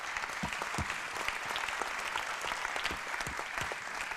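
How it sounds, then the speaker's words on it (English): An audience at a business plan competition awards ceremony claps steadily, a dense even wash of applause heard from within the room for several seconds without a break. "So I think we give him a round of applause in absentia."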